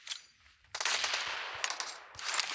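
Automatic gunfire in the mobile game PUBG Mobile comes in rapid bursts, with a short burst, a long sustained burst and a final burst, all at a fairly low level and with no voices.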